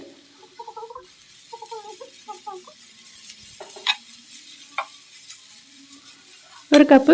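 Chicken tossed into softened onions fries in a pan with a low, steady hiss and a few scrapes, while a voice speaks briefly over it and a sharp clatter comes at the end.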